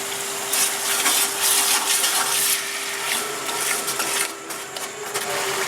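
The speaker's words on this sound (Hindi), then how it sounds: "इसको थोड़ा सा विस्क कर लेंगे ताकि इसका जो दाना है वो ख़त्म हो जाए" Yogurt whisked smooth in a bowl for Bannu beef pulao, a steady close scraping and swishing with brief louder bursts, no talk.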